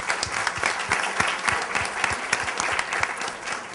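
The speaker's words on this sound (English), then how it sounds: "So give Martha a big round of applause." Dense, lively applause from a conference audience for Martha, continuous clapping with distinct individual hand claps throughout, loud and close with no lull.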